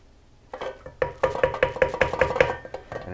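Tamale masa for pork tamales being hand-mixed in a bowl, the edges worked in with a steady run of about a dozen soft, rhythmic slaps and squelches, close and fairly loud after a brief quiet start.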